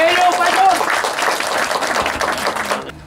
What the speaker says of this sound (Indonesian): Tepuk tangan untuk Pak Suryadi.